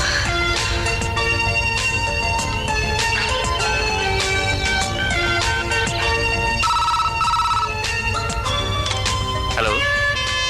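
A telephone ringtone plays loudly and continuously for about ten seconds, a bright repeating electronic melody that fills the scene with no voices over it.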